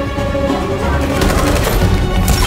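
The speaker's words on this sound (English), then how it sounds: "Why are you shooting?" Gunfire in the video game Detroit: Become Human, a dense, continuous rattle of shots under loud in-game ambience, steady for the whole short stretch with no clear gaps.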